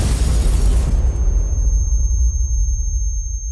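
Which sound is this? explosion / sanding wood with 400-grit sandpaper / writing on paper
explosion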